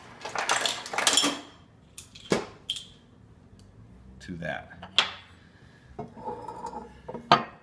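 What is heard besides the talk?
ice cubes added to an Old Fashioned drink glass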